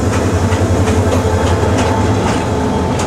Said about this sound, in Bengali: আর এখন মনে হয় ট্রেন ক্রস করবে,